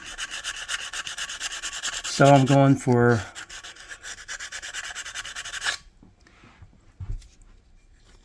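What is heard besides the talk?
hand sanding metal with sandpaper roll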